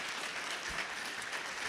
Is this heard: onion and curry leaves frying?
no